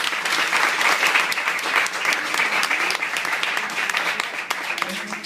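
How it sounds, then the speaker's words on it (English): Audience applause at a school event, steady sustained clapping from a crowd filling the whole stretch, fairly loud and continuous with a slight murmur of voices underneath. "So please give him one more round of applause."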